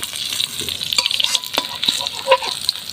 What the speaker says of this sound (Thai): ตอนแรกแล้วก็เจียวกระเทียมก่อนนะครับ